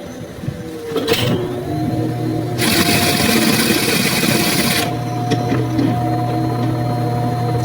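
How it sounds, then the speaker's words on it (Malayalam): Electric sewing machine stitching the neck of a churidar, starting with short bursts then running in a loud steady whir for a couple of seconds before stopping, close to the mic with no talk. "ഇതുപോലെ നമ്മൾ ഒന്ന് സ്റ്റിച്ച് ചെയ്ത് കൊടുത്താൽ മതി."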